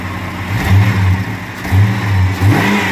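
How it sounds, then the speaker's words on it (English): The LT1 V8 in a 1995 Chevrolet Impala SS revs in loud, close blips, rising and falling several times with a throaty rumble between them. "See the LT1. Running strong, ain't no issues with nothing."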